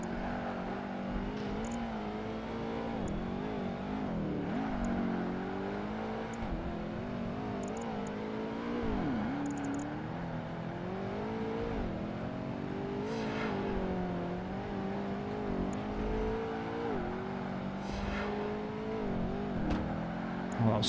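A Porsche racing in Project Gotham Racing 2 gives a steady, droning engine note whose pitch rises and falls with shifts and corners. It runs continuously at moderate loudness with no voices.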